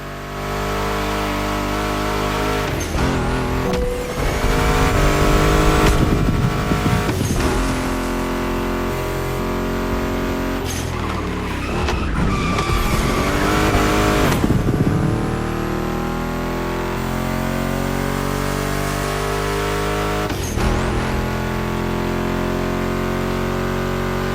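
A muscle car, a Mustang GT in the racing game The Crew Motorfest, roars steadily through repeated acceleration runs with rising revs and gear shifts, loud and close, with no talk over it.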